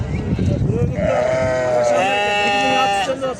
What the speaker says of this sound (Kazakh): Жүн алынган козулар бар экен.